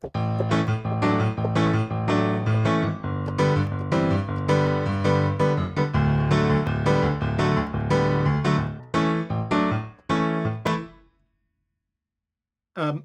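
A keyboard plays a bouncy, syncopated chord pattern, full and sustained, with rhythmic accents, before stopping into silence.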